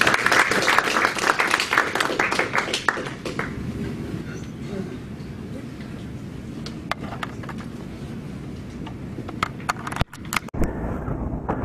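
An audience applauding speakers at the close of a cybersecurity seminar: a dense wash of clapping that fades after a few seconds into a low rumble with scattered late claps, ending in a brief hush.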